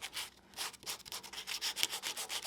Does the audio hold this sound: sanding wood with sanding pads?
yes